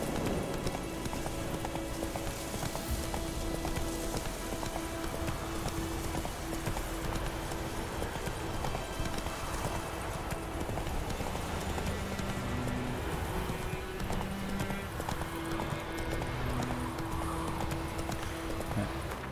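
Hooves of a video-game horse clip-clop in a steady galloping rhythm, moderately loud and continuous, with a faint low hum underneath.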